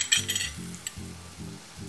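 Slices of country white bread and tomatoes fry in a pan, a soft sizzle broken by repeated scraping stirs and light clinks of a utensil, close and quiet, with no voices.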